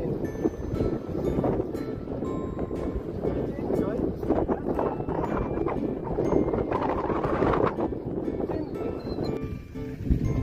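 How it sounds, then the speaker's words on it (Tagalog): Strong wind buffets the microphone outdoors with gusty, rumbling noise that rises and falls throughout, with people talking underneath. "lakas ng hangin."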